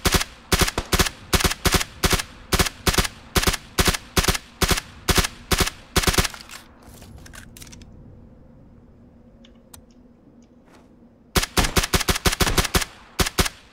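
Rapid automatic gunfire in PlayerUnknown's Battlegrounds plays as loud, evenly spaced bursts of shots. It pauses for several seconds of quiet ambience, then resumes in another tight burst.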